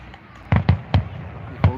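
Fireworks over ball diamonds near a quarry in Mt Airy, Maryland: four sharp booming bursts, two close together, then a single and a later one, each followed by a brief rumble, at a moderate distance.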